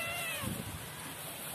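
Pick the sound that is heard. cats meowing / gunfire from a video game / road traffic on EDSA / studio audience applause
cats meowing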